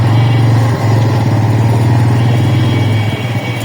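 A Bajaj Pulsar N160 motorcycle engine runs at a steady low throttle during a ride past a police station, giving a loud, close, even rumble with a faint dip near the end and no voices.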